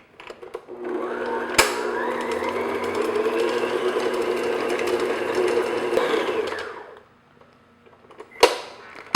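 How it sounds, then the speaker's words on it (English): An electric mixer beats room-temperature butter in a bowl for oatmeal raisin cookies, a steady close whirring hum lasting about five seconds, with brief knocks before and after. "I'm just going to beat the butter just until it's nice and smooth"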